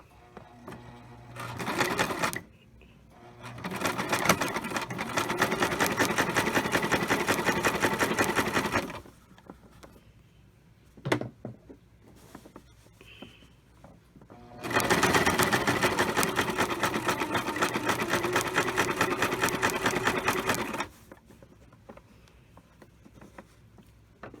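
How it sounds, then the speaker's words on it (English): Sewing machine stitching a quarter-inch seam along a Christmas stocking: two long, steady mechanical whirring runs of several seconds each, separated by quiet pauses with small handling clicks. "So I'm just going to go and make my stitch all the way down."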